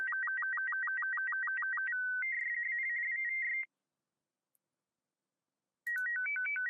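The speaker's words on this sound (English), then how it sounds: "if you unmute, you can hear this Morse code type deal" Electronic beeping from a web page's audio: loud, steady Morse-code-like tones alternating in quick on-off pulses, then a longer held tone, a gap of silence, and the pulsing resumes.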